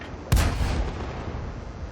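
A Matilda IV tank cannon in World of Tanks fires once with a loud booming blast that rolls into a decaying rumble as the shell strikes enemy armor.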